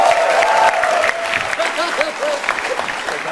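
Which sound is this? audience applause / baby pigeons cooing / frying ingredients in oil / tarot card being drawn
audience applause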